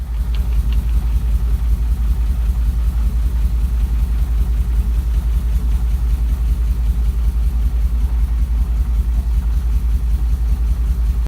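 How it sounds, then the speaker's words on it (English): A Nissan 240SX engine runs on only two cylinders, idling with a rough, lumpy, uneven pulse. The low rumble stays close and steady throughout, with no voices. "this car started off of 2 cylinders on its first startup"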